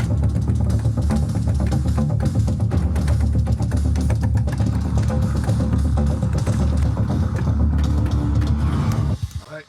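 Programmed death metal drum track, dense and relentless with rapid kick and cymbal hits packed throughout, loud and continuous before cutting off abruptly at the end, with no talk over it.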